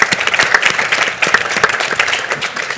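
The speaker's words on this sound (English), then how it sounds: "Let's give a round of applause." A panel audience at an event on inclusion in Hollywood gives a round of applause, loud, dense clapping from many hands, sustained and close throughout with sharp individual claps standing out.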